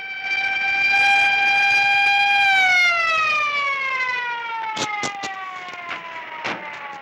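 A police siren sounds in an Arabic film, a loud sustained wailing tone that holds steady then slides downward as it passes, followed by a few sharp percussive knocks near the end, with no talk.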